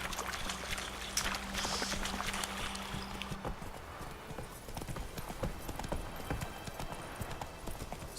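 A horse gallops in the video game The Witcher 3, its hooves pounding out a rapid steady clip-clop rhythm, close and continuous, with a brief low hum at the start.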